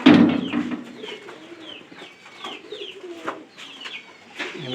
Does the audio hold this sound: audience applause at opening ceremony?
no